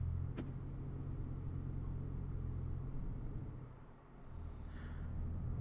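Inside a 2018 Lincoln Navigator-L Black Label on the roads of Bloomington, Indiana, a steady, quiet low road and engine hum fills the cabin, easing briefly before settling back to its even drone.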